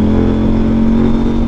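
A 2024 CFMoto 800MT adventure motorcycle fitted with a Red Exhaust aftermarket exhaust idles and revs loudly up close, a steady, deep, throaty engine drone with a strong low hum and no talking.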